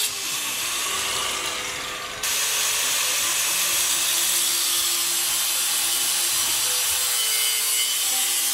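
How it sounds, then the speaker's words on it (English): Angle grinder slicing a slit into a steel chain tensioner mount on a custom Yamaha XS650 chopper, a loud continuous harsh abrasive whine that steps up slightly in intensity partway through and holds steady to the end. "I'm just gonna use a grinder. I'm gonna slice a slightly open space there"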